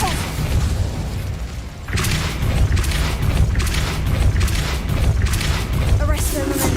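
An Incendio fire spell blast in the video game Hogwarts Legacy gives loud, heavy booms and fiery bursts. After a brief dip they swell into a sustained, dense roar with repeated impact pops.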